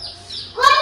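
A chicken gives a brief, close chirping cluck that lasts under a second.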